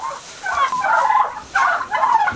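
Young farm turkeys gobble in several bursts of warbling calls, fairly close and clear, with brief pauses between, and no talking.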